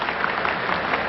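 A stadium crowd at an Ajax versus Olympique de Marseille football match applauds steadily as a substituted player leaves the pitch, a brief, even wash of distant clapping.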